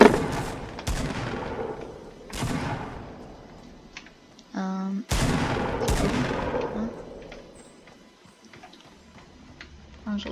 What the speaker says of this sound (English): I hear a lot of gunshots.